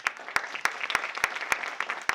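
Applause from the audience at a live storytelling show, a sparse patter of clapping with a few sharp, distinct claps standing out at a steady rhythm.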